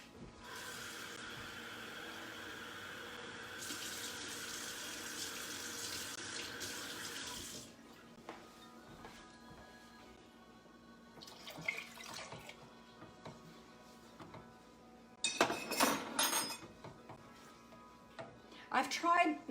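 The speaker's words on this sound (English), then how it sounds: "And now to this, you're going to add 1 cup of water," Cold tap water running into a cup in a home kitchen: a steady gush of flowing water for several seconds that stops, followed by faint clinks and handling noises, with a voice speaking at times.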